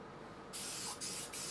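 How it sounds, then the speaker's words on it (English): An aerosol spray paint can hisses in two short bursts onto a used Mercedes Sprinter steering wheel, close and fairly quiet, with a brief pause between them. "I bought it actually for spray painting in interior components"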